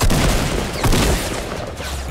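Rapid gunfire in Fortnite, a dense close-range volley of overlapping shots with heavy booming impacts, loud and continuous across the short burst.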